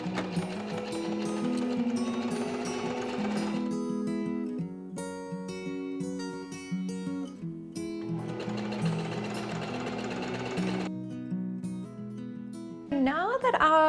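A home sewing machine running a straight stitch along a shoulder seam, in rapid mechanical bursts with short pauses between runs, close and clear.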